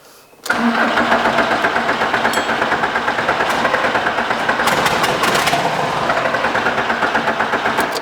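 Volkswagen engine cranking briefly and then catching, running on as a loud, steady, rough idle close by with a fast pulsing beat, no talk over it.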